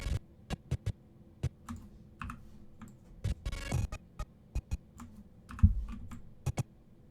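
Separate computer keyboard keys pressed one at a time in an irregular rhythm, about a dozen crisp close clicks with short pauses between them and a quiet background.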